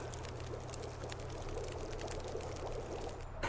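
Snow melting into water in The Long Dark video game gives a steady pouring, trickling sound with light patter over a low hum, faint and continuous, with no speech.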